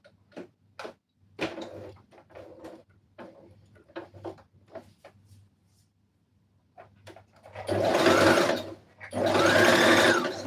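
Sewing machine stitching a red carpet dress: two loud sustained bursts of machine running near the end, after a stretch of sparse ticks and handling clicks from the machine being set up.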